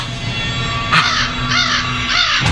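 A large crow caws in a series of loud, harsh calls, three or four close, repeated bursts over a steady background hum.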